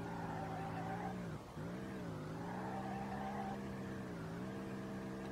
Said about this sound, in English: Look at the drifting, outrageous.